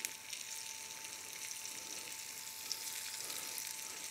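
Cabbage rolls fry in butter in a large frying pan, giving a steady, close sizzle with soft crackles throughout and no talking.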